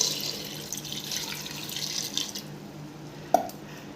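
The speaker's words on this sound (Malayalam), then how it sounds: "ഇതിൽ വെള്ളം ഒഴിക്കുക." Water pours into a cooking pot for a Kerala morkalam curry, a steady splashing stream for a few seconds that stops, ending with a light clink.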